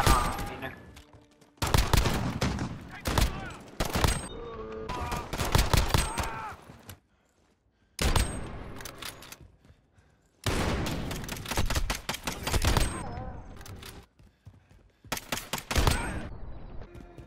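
Rapid gunfire bursts in the Modern Warfare video game, dense loud volleys in several clusters separated by short gaps, with a voice talking over the shooting at times.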